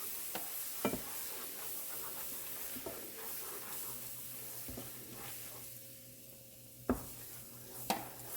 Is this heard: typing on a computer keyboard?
no